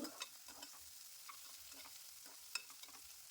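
Sliced onions fry in oil and ghee with a soft, steady sizzle, broken by a few faint scrapes of stirring and no voices.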